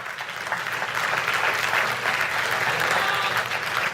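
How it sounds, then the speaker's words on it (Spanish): Loud, sustained applause from a church congregation, continuous clapping that swells slightly and holds for several seconds. "Denle el aplauso fuerte al Señor"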